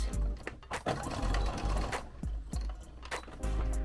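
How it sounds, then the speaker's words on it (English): A sewing machine stitches and backstitches the end of a side seam on a beginner bell-shaped bag, its needle running in quick bursts with brief pauses and knocking clatter, fairly loud and close with no talking. "Make sure you backstitch when you get to the end."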